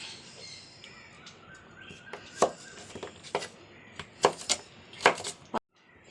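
Vegetables being cut for sambar, with sparse knife strikes on a board that start softly and grow louder toward the end, over faint background noise.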